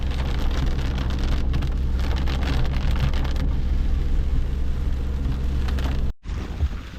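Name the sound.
heavy rain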